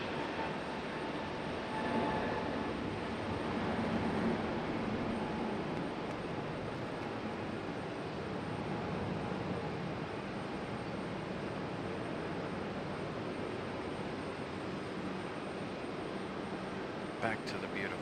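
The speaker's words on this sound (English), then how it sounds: "Ooh, early rotation for the Frontier there." A Frontier Airlines jet takes off from Raleigh-Durham International Airport with a sustained, broad engine roar that stays fairly even in level. The sound carries a distant, airy quality, and a faint click or two comes near the end.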